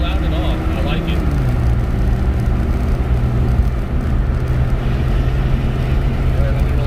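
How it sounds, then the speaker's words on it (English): Jeep Grand Cherokee WJ fitted with a Flowmaster 40 exhaust accelerates uphill, a steady low engine drone and road rumble heard from inside the cabin, rising slightly in pitch as the throttle is held. "All right, a little bit of an uphill, so throttle there. It's not really loud at all."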